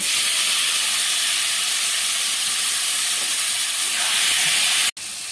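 Spinach greens poured into a hot pan with fried lentil dumplings and dried red chillies for peyaaz shak give a steady, loud sizzle and hiss throughout, cut off briefly near the end.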